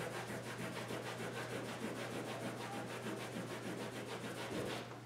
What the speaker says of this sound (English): And let's see how it wipes off.